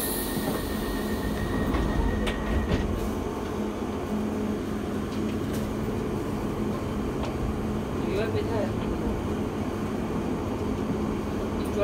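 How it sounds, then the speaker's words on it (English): A London Underground Piccadilly Line train rumbles along heard from inside the carriage, a constant low roar with rattles and faint wheel squeals throughout, with no talk over it. "This is a Piccadilly Line service to Heathrow Terminals 1,"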